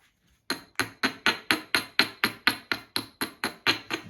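Flint being knapped with a hammer, its edge ground in a steady series of about fourteen sharp, ringing strikes roughly every quarter second, close and loud.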